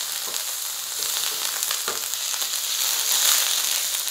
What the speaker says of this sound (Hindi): तेल गरम होगा तो हम इसके अंदर शामिल कर देंगे 1 टेबलस्पून लहसुन अदरक का पेस्ट।